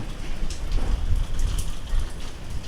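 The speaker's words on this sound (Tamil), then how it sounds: "மழை தூறலாக சாரலாக மாறி மெதுவாக குறைந்து கொண்டிருக்கிறது." Light rain easing into a fine drizzle, a steady close wash of soft patter with low rumble beneath it and no voices.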